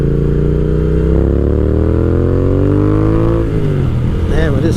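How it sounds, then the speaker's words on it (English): A 2020 Triumph Speed Twin motorcycle engine revs up loud and close in a smooth rising sweep, then eases off, with a brief voice at the end. "Oh, that is a sweet sounding bike."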